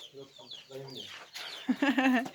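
A chicken clucks close by in a farmyard, with a rapid run of clucks that rises into a louder, drawn-out squawk near the end.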